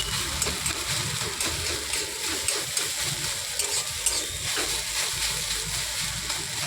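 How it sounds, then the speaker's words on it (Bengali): Egg frying in a wok while being broken into small scrambled bits with a flat metal spatula, making a steady, close hiss and sputter of hot oil with soft scraping throughout and no talking. "এইভাবে খুন্তি দিয়ে আমি ঝুড়ি ঝুড়ি করে ওই কড়াইতে ঝুড়ি ঝুড়ি করে কেটে নেবো"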